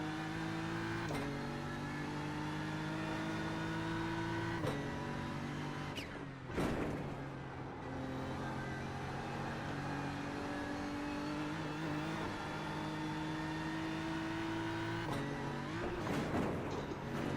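A race car engine in a racing video game drones loud and steady throughout, its pitch stepping up through gear shifts, with a brief break partway and a few rough bumps near the end.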